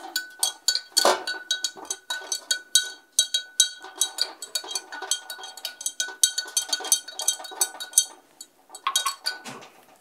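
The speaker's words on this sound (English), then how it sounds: "I'm going to stir it." A spoon stirs a cochineal lake pigment mixture with a pinch of iron in a glass, making rapid, rhythmic, bright clinks against the sides. The close, lively taps run almost continuously, with a few brief pauses.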